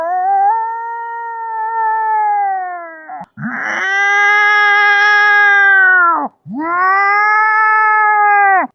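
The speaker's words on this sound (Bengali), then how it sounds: "বিড়ালের ঝগড়া।" Cats fighting: a sustained, loud yowl and caterwaul from one cat, broken by a sharp hiss or spit, then two more long, rising and falling yowls, close and continuous with no talking.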